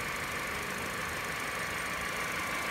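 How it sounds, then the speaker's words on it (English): A Peugeot 308 engine idles with an overheating fault and no fan control, a steady even drone with a slight knocking texture, continuous and moderately close, with no speech. "You hear the engine keeps running."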